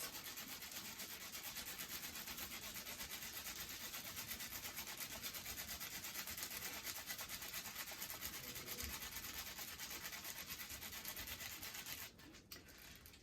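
Bubble wrap is rubbed over a bar of soap wrapped in wool felt, making a steady scratchy rubbing that runs continuously and fairly faintly, easing off near the end.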